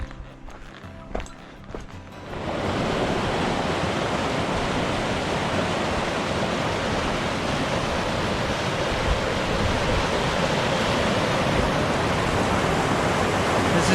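Newton Creek on Mt Hood rushing loudly and steadily as a broad, constant roar of water close by, starting after a brief quieter moment with a few faint knocks.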